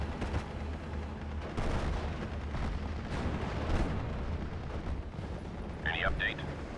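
Artillery fires repeatedly in the Steel Division: Normandy 44 battle game, dull booms and rumbling blasts rolling continuously beneath a short spoken command near the end.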